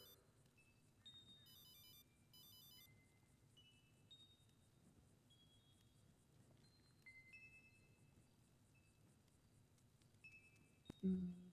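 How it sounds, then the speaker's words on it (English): A mobile phone ringtone plays quietly in a room, a short repeating electronic melody of bright beeping tones, followed by a louder thump at the end. "that's my phone that's not on silence."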